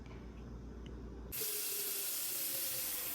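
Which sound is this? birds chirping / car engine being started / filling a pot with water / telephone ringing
filling a pot with water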